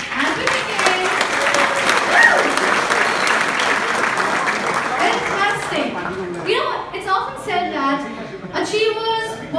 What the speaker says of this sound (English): y'all have to give a huge round of applause